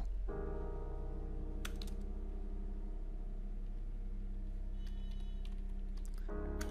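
Steady typing on a computer keyboard while color names are entered in Java code, a continuous run of close, fairly quiet key clicks over a low hum, with no talking.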